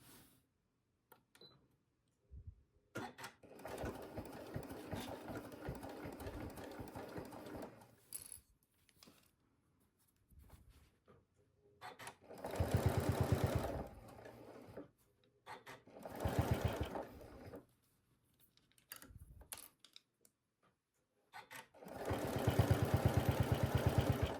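Sewing machine stitching seam binding down on a fabric bag with a zipper and boxed bottom, a quiet run of slow stitching followed by louder bursts of fast whirring with short pauses between them.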